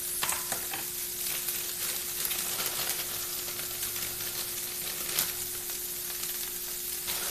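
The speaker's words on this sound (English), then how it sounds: "Now I'm going to add some spinach to the mix." Spinach sizzles and fries in a stir-fry pan with vegetables, a steady close hiss of frying with faint stirring scrapes throughout.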